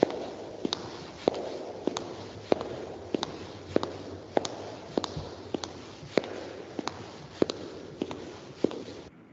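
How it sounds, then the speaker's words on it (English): Footsteps tap at a steady, even pace, each step a sharp click over a faint background hiss. "so footstep sound."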